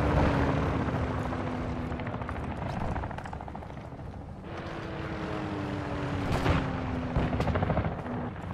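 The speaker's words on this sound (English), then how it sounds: "Cargo helo is en route to the AO." A military cargo helicopter drones overhead in a Call of Duty match, a continuous engine hum with shifting pitch under scattered distant gunfire and battle noise.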